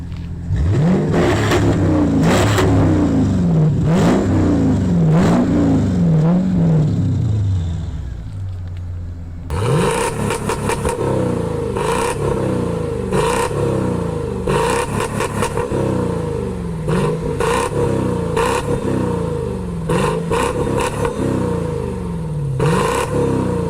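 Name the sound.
Mercedes CL500 M113 5-liter V8 engine with changed exhaust revving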